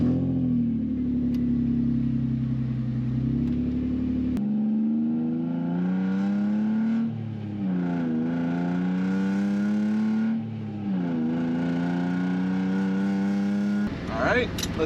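A drift car's engine during a test drive, loud and close inside the car, idles low, then climbs through repeated revs that rise and fall as the car accelerates and shifts.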